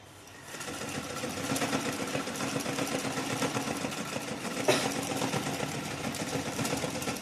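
Sewing machine stitching through old saree fabric being made into a mini handbag, a steady continuous motorized whir that starts after half a second and runs close and fairly loud to the end with no talking.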